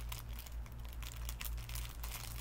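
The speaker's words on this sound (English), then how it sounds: "And I got more crinkling." Packaging crinkles up close in steady, busy rustling bursts of thin plastic, fairly quiet over a low background hum.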